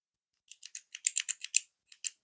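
A Zebra F-701 stainless steel retractable ballpoint pen, fine point 0.7mm, clicked repeatedly: about a dozen short, crisp clicks in an uneven rhythm, close and fairly quiet, with no talking.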